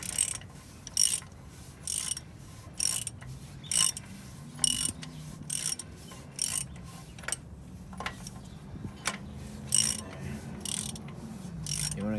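A ratchet tightens a 27 mm brake caliper bolt on a Nissan D21 pickup, clicking in close, rapid bursts of pawl ticks, stroke after stroke in a regular rhythm with short pauses between pulls.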